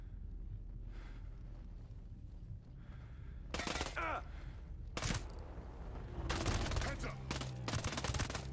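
Gunfire in the Ghost Recon Breakpoint video game: several loud bursts of shots cracking out over a quiet ambient wind bed, with scattered single reports between them.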